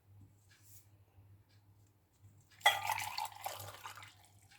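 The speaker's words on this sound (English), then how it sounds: "I'm going to pour it in my beaker" Cherry blossom hydrosol is poured into a beaker, a short splashing, trickling pour that rises abruptly after a quiet stretch and tapers off within a couple of seconds.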